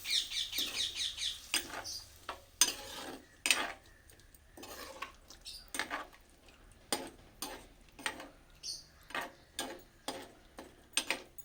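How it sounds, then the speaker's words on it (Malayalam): A spoon stirring sardine curry in a pan, Kottayam-style fish curry, giving a run of faint, irregular clinks and scrapes against the metal, with a light background hum. "ഇളക്കി കൊടുക്കാവേ."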